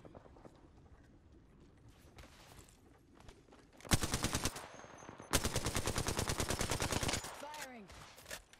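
Two loud bursts of rapid automatic gunfire from Bangalore's weapon in a battle royale game, the second longer and steadily rhythmic, rising above a quieter background of movement and mechanical clatter.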